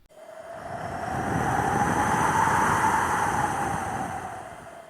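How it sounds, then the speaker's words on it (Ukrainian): Autumn wind blows in a steady whooshing gust with a faint whistling edge. It swells toward the middle and eases off again, heard alone with no voices. "Послухайте, як дмає вітерець."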